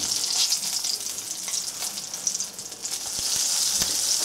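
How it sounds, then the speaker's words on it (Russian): Carp frying in a pan with a loud, close, continuous hiss and spatter, scattered crackles and brief stirring knocks, no voices. "Пока рыбка наша дожаривается"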